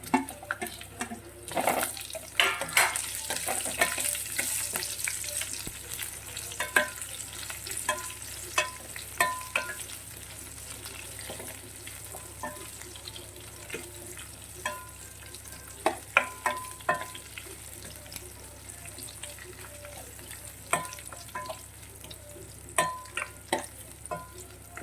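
Quiet sizzling from a pan of frying lime pickle as dates are stirred in, with soft scraping stir clicks and small taps scattered over a steady low hiss.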